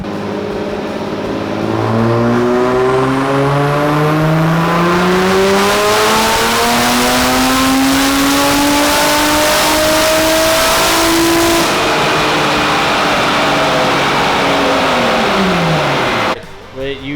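A Dodge car on a dyno accelerating hard through fourth gear, the engine climbing steadily in pitch for several seconds, very loud and close, then dropping off abruptly near the end.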